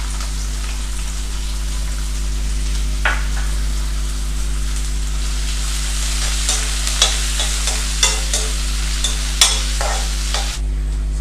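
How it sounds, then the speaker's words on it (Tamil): Two finely chopped large onions sizzle steadily in a pan, with a constant frying hiss, a low steady hum and intermittent scraping clicks as they are stirred. "ஸோ வெங்காயம் நல்லா வதங்கிருச்சு."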